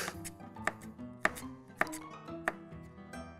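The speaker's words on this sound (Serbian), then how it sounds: "Seckam sada i beli luk" Sharp knife chops through garlic against a cutting board, four distinct cuts spaced about half a second apart, close and clear, with faint kitchen clatter beneath.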